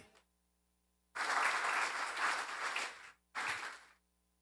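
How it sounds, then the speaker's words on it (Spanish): A church audience bursts into applause in two bursts, a long swell of many hands clapping followed by a short pause and a second brief round, with near silence before and after. "Dale un aplauso al Rey"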